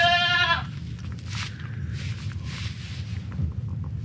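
Newborn baby goats on a farm, one loud close bleat at the start followed by fainter bleats and rustling over wind noise on the microphone.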